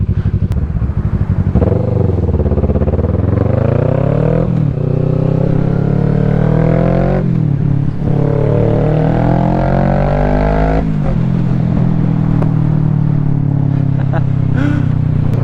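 A fast motorcycle rides on wet winter roads, its engine loud and close, revving up and down through repeated accelerations with wind noise. The rider talks intermittently over it.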